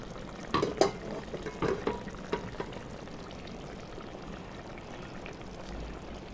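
A spoon stirs curry in a pan in a home kitchen, giving a few scraping clinks and scuffs early on over a faint background sizzle that continues quietly afterward.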